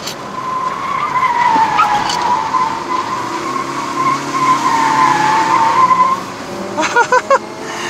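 A 2017 Proton Saga 1.3L CVT corners on a winding mountain road up to Genting, its tires squealing in a long, loud, wavering screech over the engine. The squeal fades into a few pulsing engine surges as power is cut.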